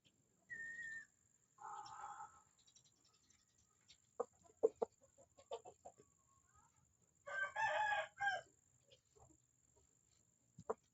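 A muscular fighting rooster crows loudly and close by in three separate bursts, the middle and last calls the longest, with soft clucks and scattered clicks in the quiet stretches between.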